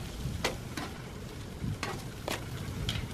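Huilotas (doves) sizzle on a grill over glowing embers, a steady soft crackling hiss broken by several sharp pops and spits spaced irregularly through the clip.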